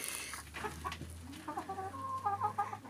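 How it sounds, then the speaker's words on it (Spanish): Chickens cluck close by in short, irregular bursts, with a few higher-pitched squawks and a low steady hum in the background. "Se escaparon las gallinas, miren."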